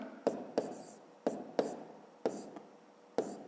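A pen writing on paper while working a fifth-grade math exercise: six quick, close scratching strokes in short bursts, each fading off before the next, faint and with no voices.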